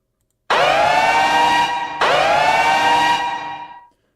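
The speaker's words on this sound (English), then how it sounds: "there was a very, very loud siren." Two loud bursts of a harmonic alarm siren from the video game Project Subnatural, signalling the threat level, each rising then holding steady before fading, with no voices over it.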